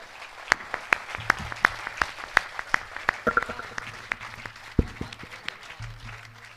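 Sparse audience clapping in a hall during a poetry recitation, a few distinct claps at an uneven rhythm over low background murmur, thinning out toward the end.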